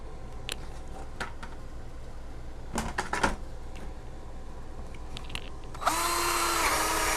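A power drill bores a hole through a plastic bucket about 1.5 inches up from the bottom, a loud steady whine kicking in near the end after a few sharp handling knocks and clicks.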